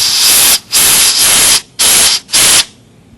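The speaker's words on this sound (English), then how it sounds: "use your compressed air and blow through your motor to get the extra carbon dust out of the motor" Compressed air blasted through the motor of an APQS Legacy quilting machine to clear carbon brush dust, four loud close hissing bursts separated by short pauses, with no talk.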